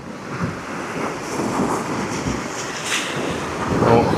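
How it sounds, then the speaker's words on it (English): Sea surge rolling into a harbour on an incoming tide, a steady washing roar of water with wind buffeting the microphone throughout. "that tide is coming in because that surge has just come up another bit"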